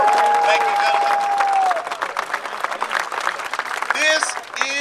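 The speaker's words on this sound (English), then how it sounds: "Give them a round of applause" A crowd at a Herman Cain political rally in Bartlett, Tennessee applauds the police escort with loud, steady clapping, a sharp whistle and a few cheers, swelling again briefly at the end.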